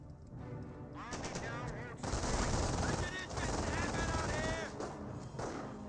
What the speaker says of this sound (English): Squad is taking small arms fire.